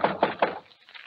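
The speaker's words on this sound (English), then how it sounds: "I go over to the shed and knock." Three quick knocks on a wooden shed, evenly spaced and fairly close, followed by a faint rustle, in an old-time radio drama.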